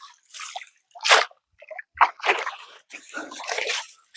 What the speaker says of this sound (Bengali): জালটা সুন্দর করে ধুয়ে নিচ্ছি, যাতে করে জালটা নতুনের মতো চকচকা হয়ে যায়।